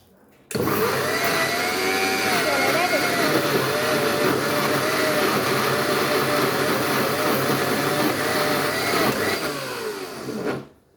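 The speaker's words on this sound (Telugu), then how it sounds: "మిక్సీకి పడుతున్నా చూడండి" A mixer grinder whirs steadily for about ten seconds, grinding chutney with salt and coriander, a loud continuous motor drone that starts abruptly and winds down at the end.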